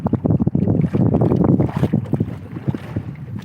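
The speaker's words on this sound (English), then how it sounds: "Windy day, Lake of the Woods." Gusty wind roars and buffets continuously on Lake of the Woods, mixed with the splash and slosh of big, choppy waves close by.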